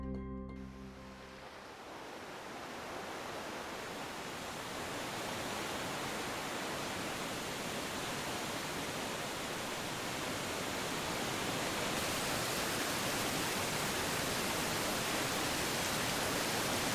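A waterfall on Jeju Island pours where a stream meets the sea, a steady loud roar of rushing water that swells slightly and holds without break, near and alone with no voices.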